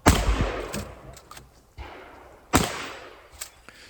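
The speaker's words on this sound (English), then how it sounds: "Matt had to take an extra shot on that one." Gunshots ring out at a 2 gun action shooting match, several loud sharp cracks spaced over a few seconds with echoing tails and fainter pops between them.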